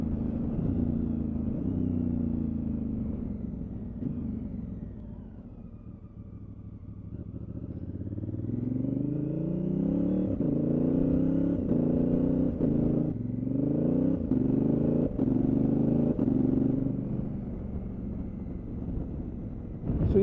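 A Honda Africa Twin Adventure Sports motorcycle with a quick shifter and auto blipper accelerates through its gears, engine pitch rising and dropping in repeated sweeps under steady wind rumble, heard close throughout with no talk.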